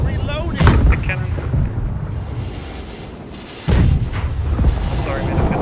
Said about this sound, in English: I'm reloading the cannon.